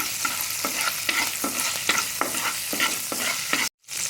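Chili powder and ginger-garlic paste stirred in a hot pan for a chicken omelette: regular scraping strokes over a steady sizzle, close and alone, with a brief silent gap near the end.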